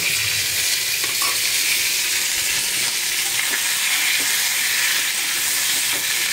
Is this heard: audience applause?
no